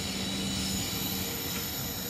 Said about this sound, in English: now I'm going to take a train from the metro station